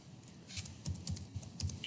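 A comment is typed on a computer keyboard in quick, irregular bursts of close, light key clicks, quiet and with no talking.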